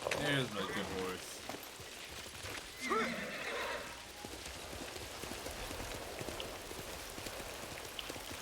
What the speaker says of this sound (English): There's my good horse.